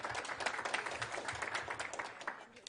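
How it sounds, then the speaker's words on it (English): Audience applause at a youth employment program event, steady dense clapping from a crowd throughout. "give yourselves a round of applause for that"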